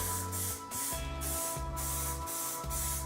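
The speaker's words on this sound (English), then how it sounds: "Anyway, there's blue lacquering" Blue lacquer is sprayed onto brake calipers from an aerosol can in repeated hissing bursts, loud and close, each a second or so long with short gaps and a low hum underneath.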